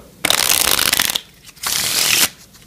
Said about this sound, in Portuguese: Como vocês estão vendo aqui eu estou embaralhando bastante